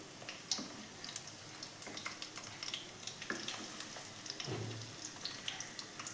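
Drumstick flower fritters fry in a pan of oil over low heat, giving a soft, faint, continuous sizzle broken by small pops and light scrapes as they are turned.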